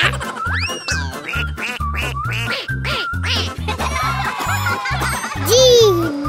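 Cartoonish duck quacks from a children's letter-finding game sound over a bouncy, rhythmic music track with chimes and playful synth effects, loud and close throughout.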